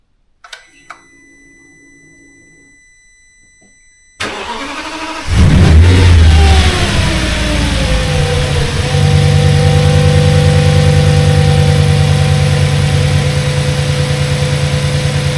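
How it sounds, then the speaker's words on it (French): An Audi S6 V10 cranks over with a couple of short beeps, then the engine catches and settles into a loud, steady idle that holds close and continuous to the end. "Bon, ça démarre"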